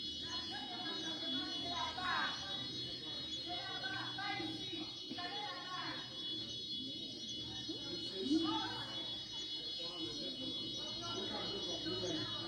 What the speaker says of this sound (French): Voilà, je mets l'alarme là-bas